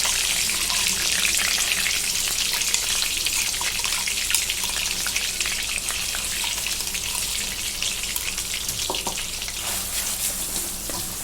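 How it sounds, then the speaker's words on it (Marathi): Ground masala paste hits a hot pan and fries with a loud, dense, continuous sizzle and crackle for chicken kharda, steady and close with faint stirring scrapes, no voices. "वाटून घेतलेला मसाला सर्व टाकून घेते"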